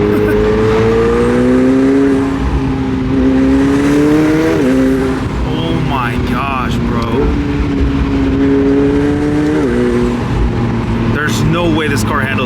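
A yellow McLaren 720S sports car engine drones steadily while driving, with rising and falling pitch as it accelerates and shifts, under excited talk from people inside the car.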